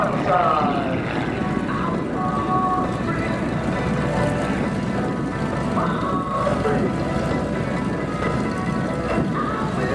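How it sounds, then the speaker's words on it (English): A propeller aircraft drones loudly and steadily at the Oshkosh AirVenture airshow as it performs aerobatics. An announcer talks over the constant engine roar throughout. "He puts his aircraft into a nice, stable, upright, flat spin for landing"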